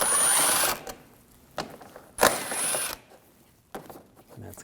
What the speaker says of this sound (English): Now I take these two screws out, same 8mm socket.